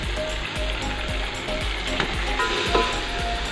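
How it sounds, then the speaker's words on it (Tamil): Curry leaves, coriander and mint sautéing in hot oil give a steady, close, dense sizzle that runs unbroken throughout, with faint stirring scrapes and no voices. "கருவேப்பிலை, கொத்தமல்லி, புதினா சேர்த்து இப்போ வதக்கிட்டு இருக்கோம்"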